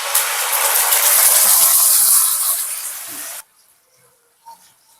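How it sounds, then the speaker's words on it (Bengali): Onion, ginger, green chili and garlic paste hits hot oil while cooking a Bengali gurjali fish kalia, giving a loud broadband sizzling hiss that cuts off abruptly after about three and a half seconds, leaving near silence with a faint clink. "মিক্সিতে যে পেস্টটা তৈরি করে রেখেছিলাম, পেঁয়াজ, আদা, কাঁচা লঙ্কা, রসুন, এই সমস্ত পেস্টটাকে আমি এবার দিয়ে দেব।"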